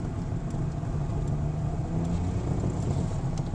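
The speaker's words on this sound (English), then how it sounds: "So Andy, you can tell it doesn't accelerate as fast as yours, but it sounds like it's going really fast." A Saab 95 car engine drones steadily while driving, a loud low rumble heard from inside the car with no talk.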